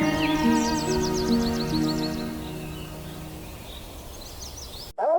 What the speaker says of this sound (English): Purple sunbird.